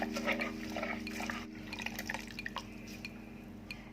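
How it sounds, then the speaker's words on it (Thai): Liquid trickles and drips as pandan leaf and pumpkin colouring is strained for a Thai pumpkin bua loy dessert, steady and close over a low background hum, with no talking. "เราก็จะกรองเอาแต่น้ำค่ะ กากเราไม่เอานะคะ"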